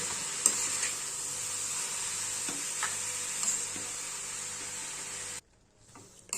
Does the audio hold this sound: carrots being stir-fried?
yes